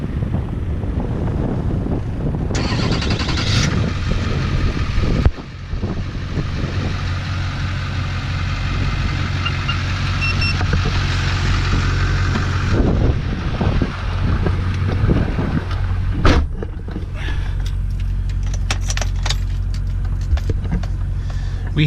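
Restored Chevrolet Sierra 2500 with an LB7 diesel engine starting and settling into a steady, rumbling idle, loud and close with wind buffeting the microphone throughout.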